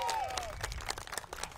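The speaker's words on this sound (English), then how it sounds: "And one more round of applause for my friend Rob Miller." Brief audience applause at a send-off party, a short burst of dense clapping with a voice heard over it at the start.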